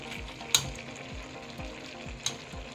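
Meat for ogbono soup bubbling and sizzling in a pot, with a steady crackle, repeated soft rhythmic thuds and a couple of sharp metallic clinks.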